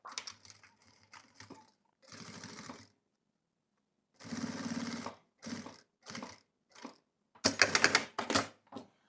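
A sewing machine topstitches bias binding on a printed cotton tricoline pouch in short runs of rapid needle chatter, several brief bursts and longer stretches separated by silent pauses, close and clear with no speech.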